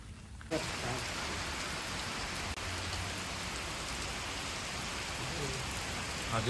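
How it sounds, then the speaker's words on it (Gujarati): Heavy rain pours down during a rural downpour, a dense, steady hiss that stays loud and even throughout, with no voices over it. "વરસાદ વધવા માંડ્યો છે."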